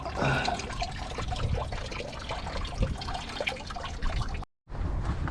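Coolant drains steadily from a Honda Civic during a flush, a loud continuous splashing flow that cuts out briefly near the end and then resumes.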